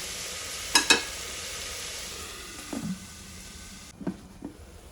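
Onions cook with salt in a pan under a quiet, low sizzle, broken by two sharp utensil clinks early on and a few softer knocks later.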